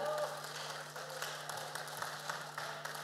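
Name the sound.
applause at a stock exchange listing ceremony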